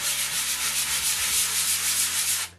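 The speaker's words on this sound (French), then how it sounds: "on ponce" A sheet of 120-grit sandpaper rubs in steady back-and-forth strokes across an aerated concrete wall, close and continuous, then stops abruptly.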